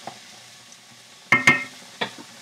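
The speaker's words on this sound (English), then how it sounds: "I'm also going to add a half a cup of onion that we chopped" Chopped onion, about half a cup, stirred in a pan with melting fat while making pasta with clam sauce: a few sharp utensil scrapes and knocks over a faint, steady sizzle.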